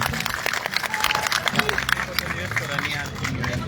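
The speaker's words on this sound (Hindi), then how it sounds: "एक बार जोरदार तालियां मुख्यमंत्री जी" Audience applause for the Chief Minister, Dhami, at a gathering about youth issues: a crowd claps in a dense, continuous patter with murmuring voices mixed in, steady and fairly close throughout.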